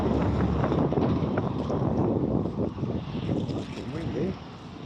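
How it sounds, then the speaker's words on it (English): Strong wind buffeting the microphone outdoors, a loud continuous rumbling roar that eases slightly near the end, with a voice mixed in. "Fucking windy."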